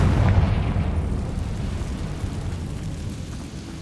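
A Confringo fire spell explodes in Hogwarts Legacy, a loud deep boom at the start that rolls off into a fading low rumble.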